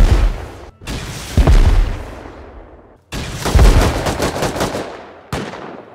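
Gunfire in the survival game Rust during a raid on Rad Town, with loud close bursts of rapid shots in two main volleys separated by brief gaps, each decaying into rumbling echoes.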